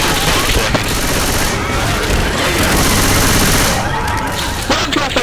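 Loud, dense gunfire fills a versus match of Left 4 Dead 2, with rapid overlapping bursts and heavy blasts running nearly nonstop and a brief lull near the end.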